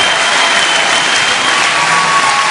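Studio audience applause at a French television talent show, a dense, steady roar of clapping holding loud and unbroken throughout with no voices on top.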